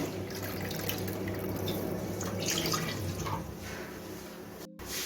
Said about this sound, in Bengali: এই কাপ দিয়ে দুই কাপ জল দিয়ে দিব